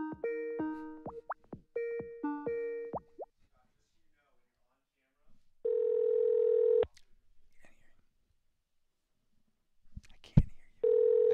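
Telephone keypad tones beep in quick dialed bursts while a call is being placed, followed by long steady ringback tones separated by pauses, with faint background sounds between.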